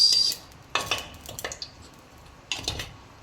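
Garlic and onion sautéing in a little oil in a pan, with short bursts of sizzle and the scrape and clink of a metal utensil against the pan between quieter stretches.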